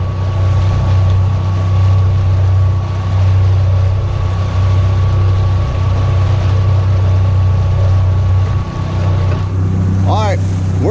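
Small boat's motor droning steadily while trolling with lines out on open water, a loud continuous low hum with wind and water wash, and a voice briefly audible near the end.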